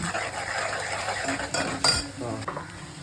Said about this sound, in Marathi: हे आहे आलं लसूण पेस्ट ती सुद्धा परतून घेतो आहे